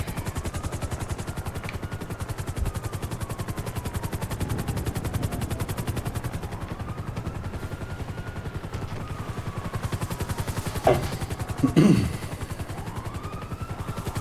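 A hovering helicopter in GTA 5 fills the scene with a steady, fast rotor chop, and a few sharp bursts of gunfire aimed at it ring out near the end.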